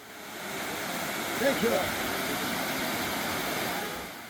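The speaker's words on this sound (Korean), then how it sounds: "그 이름 그대로 네 줄기의 폭포가 웅장하게 쏟아지고 있습니다" A four-stream waterfall at Wolhwatan in Gucheondong valley, a broad steady roar of pouring water that stays constant throughout, with a faint voice briefly heard over it.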